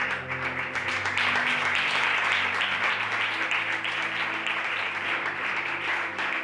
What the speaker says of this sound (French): est-ce que tu peux acclamer très fort pour toi-même?